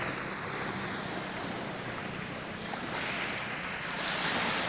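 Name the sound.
sea waves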